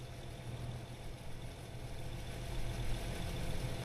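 A tractor engine idling in the farming game Farming Simulator 22, a steady low diesel rumble with a constant hum that swells slightly toward the end, heard alone without talk.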